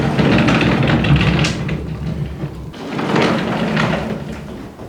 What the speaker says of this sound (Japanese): そして一番手前の扉をですね引くと、ここにはですね障子が入っています。